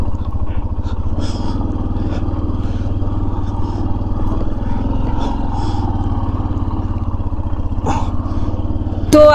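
Motorcycle riding on a high-altitude Himalayan mountain road, a loud, steady, close engine drone with rhythmic pulsing and a few clatters over the bumpy surface, continuing throughout with no clear voices.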